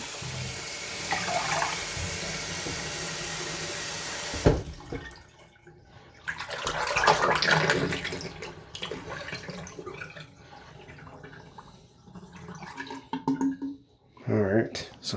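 Water pouring down a drain during plumbing maintenance on a clogged drain, a steady rushing flow that stops abruptly, followed by gurgling and dripping, with a person talking at times.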